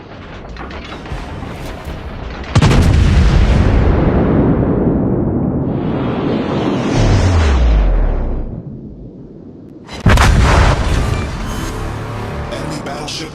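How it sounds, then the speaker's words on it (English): Naval guns on a warship in a video game fire at an enemy ship: two heavy booming blasts several seconds apart, each with a long rumbling roar that slowly fades, loud and close. "Concentrate fire on the enemy warship."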